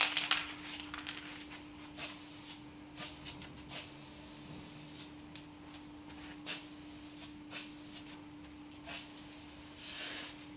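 Aerosol spray paint misted in a light dusting coat over a boat during restoration, heard as short close hissing bursts repeated at irregular intervals over a steady background hum.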